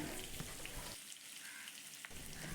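Fish fries on low heat in a pan over a bed of curry leaves, giving a faint, continuous crackling sizzle with small pops.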